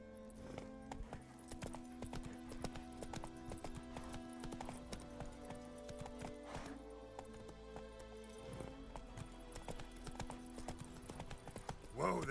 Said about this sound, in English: Whoa there, Roach. Go, go.